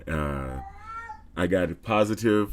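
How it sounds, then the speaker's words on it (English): A pet cat meows loudly and close, with several drawn-out, wavering cries in a row and someone speaking briefly in between. "That's from my cat."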